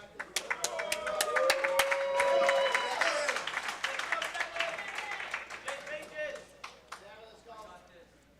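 Crowd at a wrestling match cheers and claps, a dense swell of applause and shouts building and holding loud for a few seconds before thinning into scattered claps and calls, with voices mixed through.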